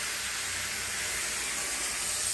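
Cucumber thalipeeth sizzles on a hot griddle, a steady close hiss of frying dough that holds evenly throughout, with no talk.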